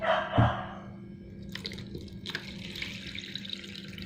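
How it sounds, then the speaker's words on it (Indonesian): Water poured out of a container into a sink while checking whether eggs are still good, a soft continuous trickle and splash, close and fairly quiet after a brief thump. "harus dibuang dulu nih airnya"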